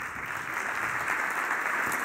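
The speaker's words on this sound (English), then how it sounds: "Give them a round of applause." Audience applause for speakers at a panel discussion, a steady wash of clapping heard from start to finish without any talk over it.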